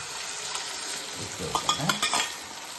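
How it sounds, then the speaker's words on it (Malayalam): A soft, steady sizzle of an egg frying in a pan for an omelette, with a few light scraping stirs near the end. "മുട്ട പൊരിക്കുന്ന അറിയാലല്ലോ"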